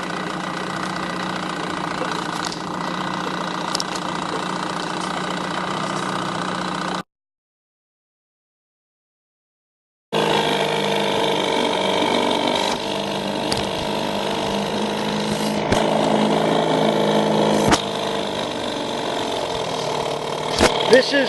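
An old outboard motor runs steadily with a knocking, buzzing idle, cuts out for a few seconds of silence, then resumes running at a similar pace.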